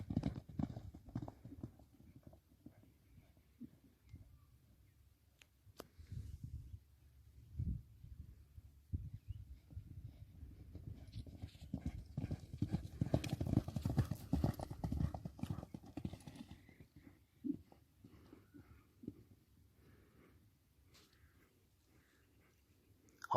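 Hooves of a kok-boru racing horse pound out a rhythmic clip-clop, faint at first, swelling louder as it nears, then fading away again.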